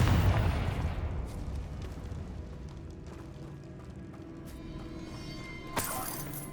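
A Confringo spell blast in Hogwarts Legacy opens with a heavy, booming burst that rolls into a fading rumble, followed by a sharp crackling impact near the end.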